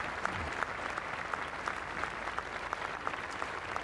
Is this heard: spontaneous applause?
yes